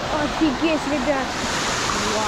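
A waterfall near Gelendzhik roars as a steady broadband rush of falling water, close and continuous, with a few faint tonal squeals briefly rising over it early on.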